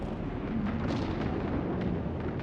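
Torpedoes striking floating debris in a Homeworld 3 skirmish space battle, a dense, continuous rumble of distant muffled blasts and crackling impacts layered over one another without pause.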